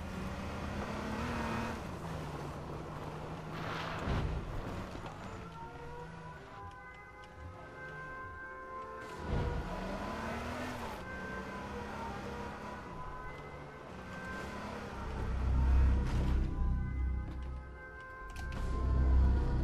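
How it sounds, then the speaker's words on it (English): A vehicle engine drives steadily in the battle-royale video game H1Z1 King of the Kill, with a wavering siren-like drone over it, a loud surge near the end and no talk. "Don't tell me my car just got stuck here."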